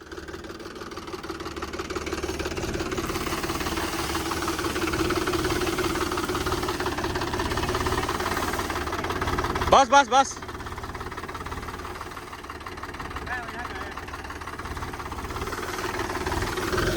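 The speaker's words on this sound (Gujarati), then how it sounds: "મિત્રો ટ્રેક્ટર તો ફરાઈ રહ્યા છે" A tractor engine drones steadily up close, driving over mung bean plants on a tarpaulin to separate the beans, a low rumbling run with a brief clatter midway, while someone speaks over it.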